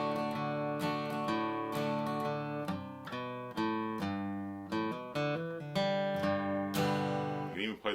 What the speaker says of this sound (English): That's kind of the quintessential G lick there.